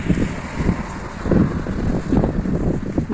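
Gusty wind buffets the microphone in uneven low rumbles, steady throughout with no one speaking.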